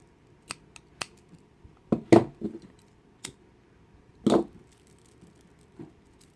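Scissors snip string for a chain kandi bracelet, a few sharp close clicks and crunchy cuts spaced irregularly with quiet gaps between.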